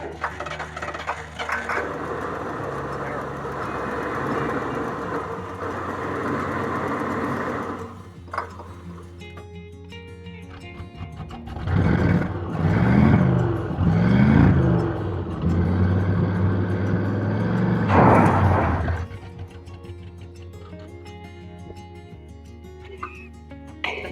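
An old, long-neglected Ford Thunderbird engine cranks and catches, idling roughly before revving up in several surging bursts, then settling back, close and fairly loud.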